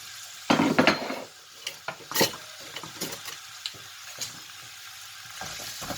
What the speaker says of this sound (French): Là, pas besoin d'attendre que ça chauffe parce que c'est bien chaud. Je vais ajouter mes oignons.